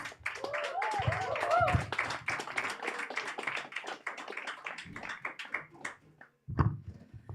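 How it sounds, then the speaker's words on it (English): Audience applause for a comedian at a stand-up show in Lviv, Ukraine: dense, steady clapping from a crowd that keeps up for several seconds, thins toward the end, and has a few louder bursts mixed in with voices. "A round of applause for him."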